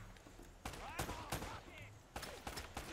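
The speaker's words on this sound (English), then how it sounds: "They're just wasting all their ammo shooting at a rock." Enemy gunfire aimed at a rock in Uncharted: Drake's Fortune, sharp bursts of shots in quick succession over steady game ambience, with a voice talking over it.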